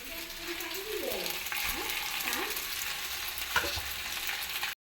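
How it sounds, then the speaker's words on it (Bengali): Macaroni stirred in a frying pan (kadai), a steady sizzle with scraping utensil strokes and a brief clink near the end, no talk. "কড়াইতে ম্যাকরনিগুলো দিয়ে দিলাম দিয়ে একটু নেড়ে চেড়ে দিয়েছি"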